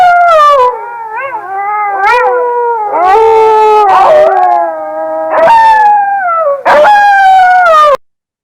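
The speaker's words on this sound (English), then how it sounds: "those are Canis lupus, otherwise known as the gray wolf" A played recording of gray wolves howling, several long rising and falling howls overlapping loudly and clearly, with no talk over them.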